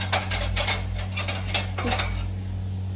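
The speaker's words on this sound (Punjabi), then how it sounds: "ਹੁਣ ਬਸ ਮੈਂ ਭਾਂਡੇ ਲੈ ਜਾਨੀ ਆ" Dishes and tea cups picked up and carried in a village home, a quick run of close ceramic and metal clinks and clatters that fade out after about two seconds.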